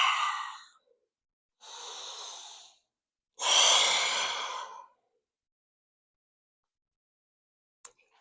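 Deep audible breathing during a hamstring stretch in a cool-down routine, three long, close breaths, a short exhale, then an inhale, then a longer sighing exhale, separated by silence, ending with a faint click.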